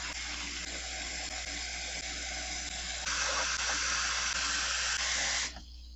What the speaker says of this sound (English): I'm going to mix this water